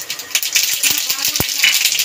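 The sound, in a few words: black mustard seeds sputtering in hot oil in a wok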